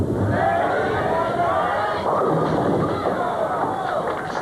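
A crowd at a 1981 PBA National bowling match cheers after a fourth strike in a row, a loud, sustained roar of many voices with a commentator talking over it.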